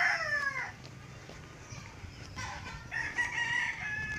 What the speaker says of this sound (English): you can encounter plenty of chicken,